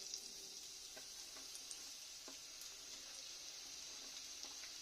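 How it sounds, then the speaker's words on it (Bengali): Onions frying in hot oil give a faint, steady sizzle and crackle with occasional soft pops, heard alone at low level. "তেলটা গরম হয়ে গেছে, এবার আমি পেঁয়াজ দিয়ে দিলাম।"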